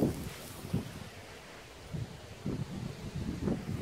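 Gusts of wind buffet the microphone in low, uneven rumbling bursts, rising and falling over a quiet background.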